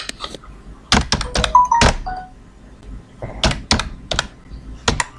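Fingers tapping the keys of a computer keyboard in irregular bursts of sharp, close clicks with brief pauses between them, loud and alone with no talking.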